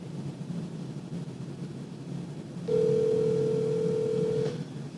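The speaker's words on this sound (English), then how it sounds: "The phone lines went dead." A steady telephone dial tone comes in partway through after a phone line goes dead on a call-in broadcast, holding an even pitch for about two seconds over a faint hiss before stopping.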